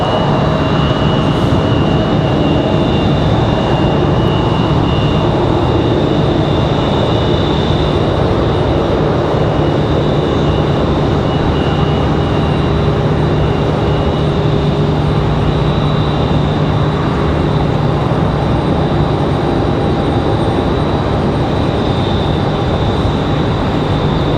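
Airliner landing at Raleigh-Durham International Airport, a loud, steady broadband engine roar with a faint whine, sustained throughout and heard from a distance with no speech.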